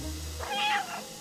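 A cat in the video game Stray gives a single clear, drawn-out meow, close and prominent over low steady background sound.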